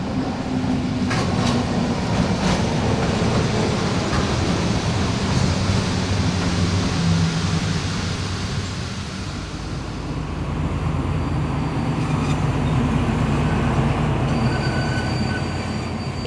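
A train rumbles along the rails and slows, its wheels squealing and screeching in sustained tones before the roar eases and settles into a lower hum near the end, loud and close.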